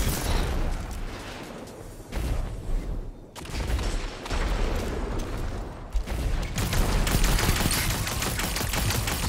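Hipfire bursts of gunfire in a first-person shooter game, rattling in dense rapid strings with short pauses, loud and close against a busy background.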